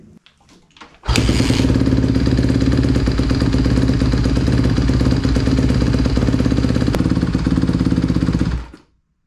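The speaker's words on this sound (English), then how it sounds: "for that I need the bike running" A Honda CRF150R dirt bike engine fires up after a few faint noises. It then runs loud and close at a steady, rapid idle for about seven seconds before cutting off abruptly.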